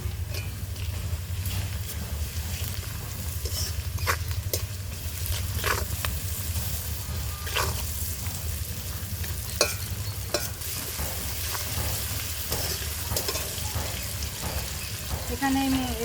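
Prawns coated in salt and turmeric sizzle with browned onions in a pan while greens cook, a steady close frying hiss broken by repeated sharp scrapes and clacks of stirring.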